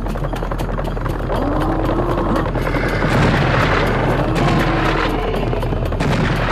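Rapid gunfire and booming weapon blasts from the video game Serious Sam HD, dense and continuous, layered over a constant loud roar of game effects that persists for the whole stretch.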